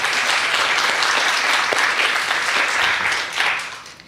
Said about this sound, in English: let's give another round of applause for Shaquan.